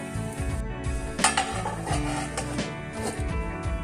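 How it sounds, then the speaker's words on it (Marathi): A lid is set down on a cooking pot of sabudana khichdi, giving one sharp metallic clink midway over steady background tones and faint kitchen clatter. "झाकण ठेवू।"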